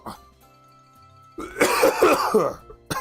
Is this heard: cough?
yes